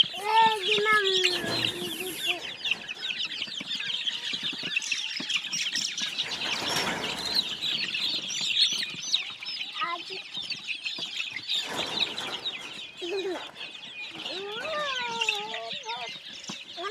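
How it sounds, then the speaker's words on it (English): Around 150 chicks peeping continuously in a dense, high-pitched chorus, close by, as they are placed from a crate, with a voice speaking briefly in between. "So these are 150 chicks that we are placing them."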